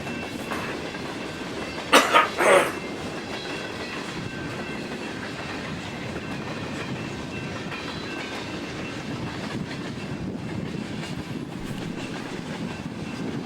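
A freight train rumbles steadily along railroad tracks, with a couple of sharp metallic clanks early on and continuous rolling noise throughout.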